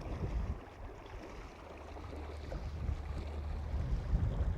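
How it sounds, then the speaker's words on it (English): Steady wind buffeting the microphone beside Montana's Gallatin River, with a deep low rumble that swells and eases, faint river water movement underneath and no voices. "Got a little wind, huh?"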